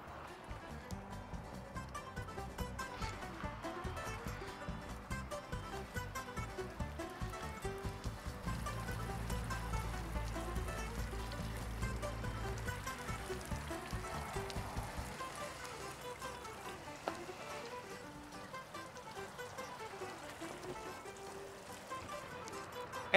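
A garden irrigation system sprays water over a vegetable plot with a steady, hissing rush that runs unbroken and fairly quietly throughout, its texture shifting slightly midway.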